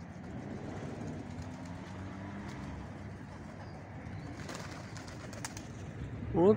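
Pigeons coo softly in a street setting while feeding on snowberry bushes, a low, repeated throaty murmur over steady background noise with distant traffic.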